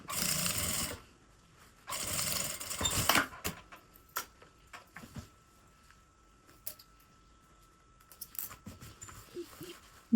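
A domestic sewing machine topstitches over fabric bias binding on a boxy toiletry bag, running in two loud sustained bursts near the start, followed by scattered clicks and handling noises of the fabric and machine.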